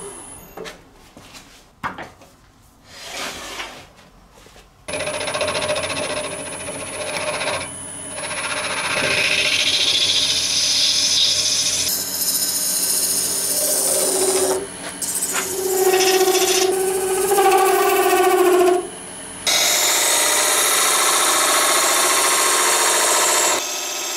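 Sandpaper pressed against a woodturning piece spinning on a lathe, worked through grits from 320 up to 3000. A close, steady whirring hiss with shifting scraping tones runs continuously after a few scattered knocks and rubs at the start.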